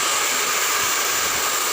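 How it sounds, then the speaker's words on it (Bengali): A hair dryer blowing steadily while two people dry long hair after a hair-straightening treatment rinse, a loud, even, continuous whoosh with no talk. "দুজনে মিলে শুকাচ্ছি চুলটা।"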